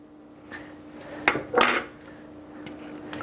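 A utensil stirs Greek chicken marinade in a bowl, making a few clinks and scrapes, with one louder clatter in the middle, close and quiet overall.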